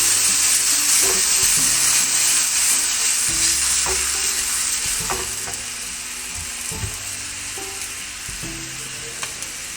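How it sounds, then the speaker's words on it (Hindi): Garlic-ginger paste sizzles and fries steadily in a pot for a matki achari biryani, with close stirring scrapes and knocks over the continuous hiss and no talking. "ये लहसुन अदरक की पेस्ट, ये मैं इसमें डाल दूँगा।"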